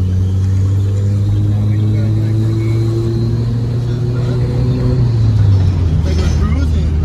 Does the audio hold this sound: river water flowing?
no